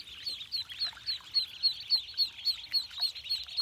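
One-day-old ducklings peep while swimming in water, giving a quick, steady run of high chirps repeated in close succession, fairly near and clear over a quiet background.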